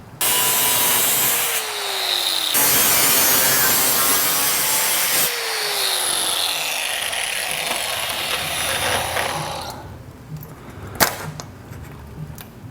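Cutting two overlapping edges of a split window panel together on a custom C10 truck, a steady raspy sawing scrape running for about ten seconds with no talk, then stopping into quieter shop noise and a sharp click.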